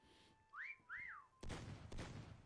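Two rising-and-falling whistled notes in the video game Meccha Chameleon, clear and close, followed by a burst of sharp noisy game sound.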